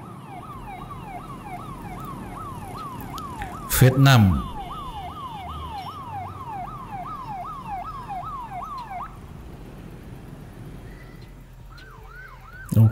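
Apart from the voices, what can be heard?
ambulance siren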